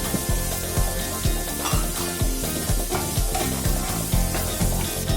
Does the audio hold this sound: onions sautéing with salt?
yes